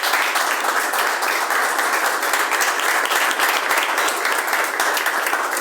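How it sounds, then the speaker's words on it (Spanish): Steady, dense applause from a large crowd, loud and continuous throughout with no voices standing out. "Ese aplauso que sea para el Señor"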